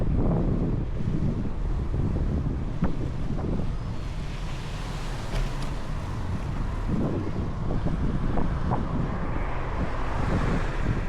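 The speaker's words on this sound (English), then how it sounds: "soft sea breeze, and the distant sound of waves hitting sand" Steady outdoor wash of surf and breeze, with soft wind rumble at the microphone and low, continuous wave noise throughout; no voices. Waves hitting sand on the seaside in Ordu, Turkey.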